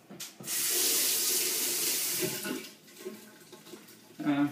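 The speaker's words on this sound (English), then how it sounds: "Quickly wash your hands." Tap water runs steadily as hands are washed under it in a home kitchen while baking gluten-free hot cross buns, a broad rushing stream lasting a few seconds, then easing off into quieter dribbles and clatter.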